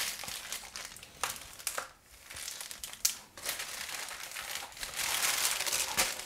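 Plastic storage bags rustle and crinkle up close as they are filled and zipped shut, in irregular bursts of crackling with brief quiet gaps.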